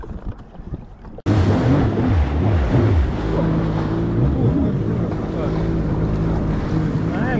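A lifeguard patrol boat motors across the sea, its engine bursting in loudly after a quiet start and then droning steadily under heavy wind buffeting and rushing water.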